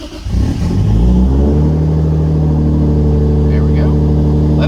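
A Toyota Supra tuned to about 900 wheel horsepower on 69% ethanol fires up with a sharp catch, then settles into a steady, loud, close idle with a low rumble and a faint voice over it.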